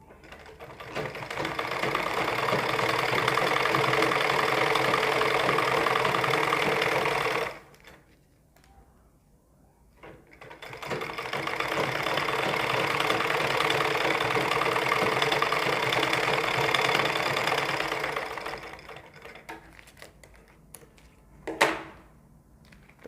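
A sewing machine stitches a newspaper pattern for a ladies' suit sleeve in two long, even runs of whirring, separated by a short pause, close and loud, ending with a sharp knock.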